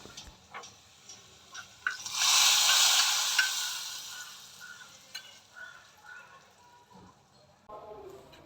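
Oil sizzles and crackles as mustard seeds fry, swelling loudly for a moment, with scattered kitchen clatter and stirring around it.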